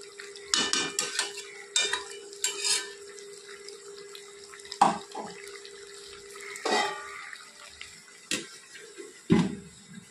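Mutton cooked without oil is stirred in a pot, giving sporadic scraping strokes and metallic clinks of the spoon against the vessel over a low steady hum, with quiet gaps between the bursts.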